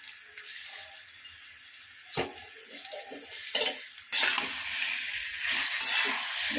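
Tomato pieces cooking in a little oil in a pan for tomato pickle: a close, bright sizzle that swells and fades, with scraping and clinking of a spoon stirring against the pan.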